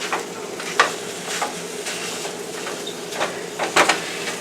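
Onions going into a pot of chili, a soft continuous sizzle broken by several sharp scrapes and knocks of a spoon against the pot, fairly close.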